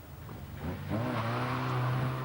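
A Midget sports car, rear-wheel drive, revs up at a classic autotest in Northern Ireland, its engine note rising and holding loud and close as it accelerates away, with no talk over it.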